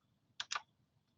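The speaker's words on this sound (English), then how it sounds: "I'm trying to click, but it doesn't move." Two quick, crisp clicks from a computer mouse in close succession, sharp and close against a near-silent background.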